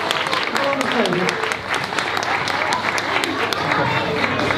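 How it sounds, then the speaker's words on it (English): A school audience claps and cheers in a steady burst of applause at an exploding custard science demonstration, loud and sustained throughout with no talk over it. "Can you give him a clap?"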